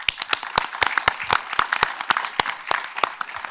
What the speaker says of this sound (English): give yourself a big round of applause for coming here